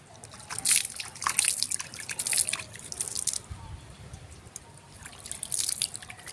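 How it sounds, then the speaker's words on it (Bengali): Hands are washed under running water outdoors, a steady light trickle and splatter with irregular drips and sloshes, close and moderately quiet. "এবার একটু হাতটা ধুয়ে নিই।"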